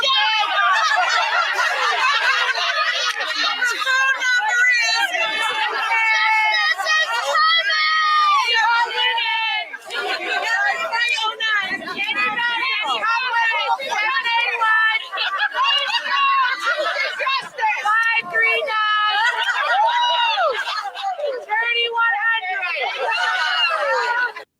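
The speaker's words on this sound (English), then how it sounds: "So yeah, nice crowd there." A large gathering of Karen Read justice supporters chatters continuously at a shared meal, a dense, steady babble of many overlapping voices close by, with occasional louder shouts rising from the crowd.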